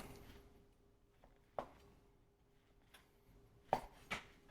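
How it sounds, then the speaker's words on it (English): A knife cuts the crust off slices of regular white bread for meatballs, a few sparse, soft cuts and crunchy taps on a board spaced out over a few seconds, close but faint in a quiet room. "2 slices of regular white bread, cut the crust off."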